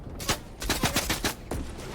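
Rapid bursts of gunfire aimed at the player in a video game, several close, loud cracking shots in quick succession over two seconds, with a brief pause before a final shot.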